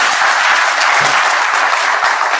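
A large political gathering in Telangana bursts into sustained applause, a dense, loud wash of many hands clapping at an even level throughout, with no speech over it.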